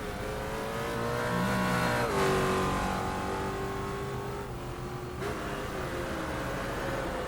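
A race car in the sim racing game at Spa holds a steady, loud engine drone on its final lap, with pitch sweeping up and down through gear changes and shifts, heard alone with no talk.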